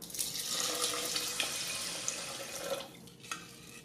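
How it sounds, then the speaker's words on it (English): Water is poured from a measuring cup onto rinsed basmati rice in an Instant Pot Duo Mini, a close, splashing gush that runs steadily for nearly three seconds before tapering into a few drips. "I've drained it, put the rice in, and pour in 3 cups of water measured using this cup"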